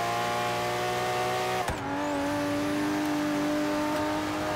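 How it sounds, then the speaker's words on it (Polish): A car in the Forza Horizon 3 racing game holds a steady engine drone at idle, with a brief sharp blip midway, then the tone drops and continues evenly. "Zresztą to dużo zależy też od układu wydechowego, jak samochód brzmi, prawda?"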